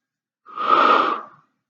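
A single audible breath drawn in during an exercise class with ball and weights, about a second long, close and airy, rising and fading alone in silence.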